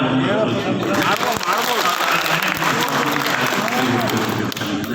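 Sustained, loud applause fills the hall at an annual general meeting of the Honnali TAPCMS cooperative society, a dense clapping crowd holding steady throughout.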